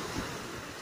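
Sea waves washing at Amalfi on a sunny day, a steady broadband surf wash with a soft low rumble of wind, fairly close and continuous, with no voices.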